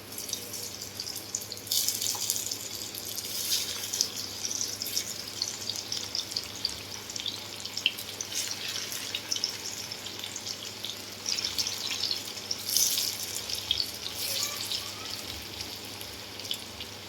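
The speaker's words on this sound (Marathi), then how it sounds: "तर मी आता वडी तळायला घेणार आहे." Coriander vadi, kothimbir vadi, shallow-fries in hot oil on a tava, giving a soft, continuous crackling hiss that swells in short bursts now and then.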